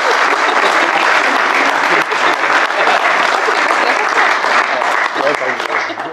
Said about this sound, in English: we should give them all a great big round of applause